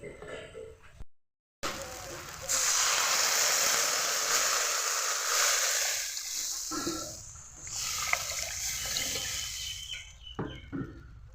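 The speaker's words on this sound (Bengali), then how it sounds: "মশলাটাকে ভালোভাবে ভেজে নিলাম, এখন জল দিয়ে দেব।" Water is poured into fried spice paste in a hot pan while making a chapila fish mustard curry. A loud rushing hiss lasts a few seconds, then fades into quieter bubbling and a few light utensil knocks.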